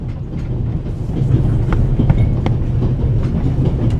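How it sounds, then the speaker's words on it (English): Train noise aboard the Orient Express in the video game The Raven: a steady rumbling carriage interior with rhythmic clickety-clack of wheels on rail joints, loud and continuous. "The noise on this train is driving me crazy."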